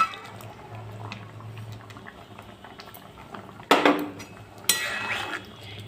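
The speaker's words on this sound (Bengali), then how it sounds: "ডাল আমাদের ফুটে এসেছে" Mung dal bubbles at a soft, steady boil in a pot, with gentle popping throughout and two sharper metallic clatters near the end.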